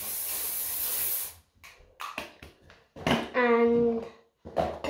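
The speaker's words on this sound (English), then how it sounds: "I'm now getting some perfume, and I'm getting body spray." A single sustained hiss of body spray from an aerosol can lasts about a second and a half close up, followed by a person talking.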